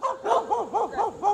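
Dogs at an outdoor boarding and daycare yard bark close by in a quick run of about six sharp, evenly spaced barks.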